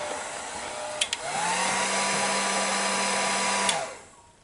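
A heat gun blows steadily on an aging, brittle plastic door panel of a Mercedes-Benz W116, switching on with a rising whir, holding a constant airy roar for a few seconds, then winding down, with a couple of faint clicks before it starts.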